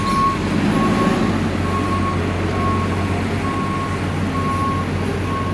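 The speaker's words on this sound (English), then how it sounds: "this truck coming through here" A delivery truck rolls past nearby with steady engine rumble, while a repeated reversing beep sounds evenly throughout, loud and continuous over the background.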